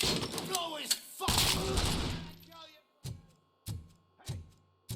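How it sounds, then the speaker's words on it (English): A burst of rapid gunfire in the video game RoboCop: Rogue City crackles, then three single heavy shots ring out, evenly spaced, each with a short echoing tail. "Hey, am I hearing gunshots?"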